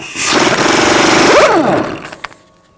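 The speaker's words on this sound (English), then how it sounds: "Use a 36mm socket. Remove this nut." A power tool spins off the rear wheel hub nut of a 2007–2011 Honda CR-V using a 36mm socket. A loud, close, steady buzzing burst lasts about two seconds and its pitch sweeps as the nut frees, then a couple of light metallic clinks follow.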